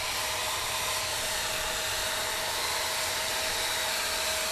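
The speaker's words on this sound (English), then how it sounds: "Now I'm going to take this sander and I'm going to clean this up a bit more so it looks a little nicer." A power sander smooths the edge of a homemade gun holster, giving a constant, loud, close whirring hiss with no pauses and no talking.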